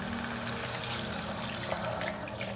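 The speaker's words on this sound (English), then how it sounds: "I think we'll be needing to add some water, so I'll just do that now." Water, about two cups, is poured into a cooking pot of chicken shaami kebab mixture, making a steady close splashing rush with no voices.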